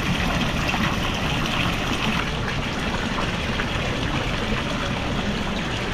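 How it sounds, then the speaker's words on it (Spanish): Water pours out steadily at a pilgrimage site beside a convent, a continuous loud rushing flow with no breaks. "Ahí sale agua"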